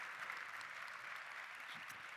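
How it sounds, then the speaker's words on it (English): Audience applause at a Genesis Magma world premiere evening, a steady even wash of clapping held at a moderate, fairly distant level for the whole stretch, with no voices on top. "Let's give him a big round of applause."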